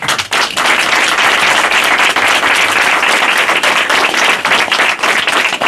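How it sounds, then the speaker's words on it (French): Audience applause for a candidate at a campaign headquarters inauguration, a loud, sustained crowd of clapping hands filling the room evenly from start to finish. "pour ce courage-là, on peut l'applaudir"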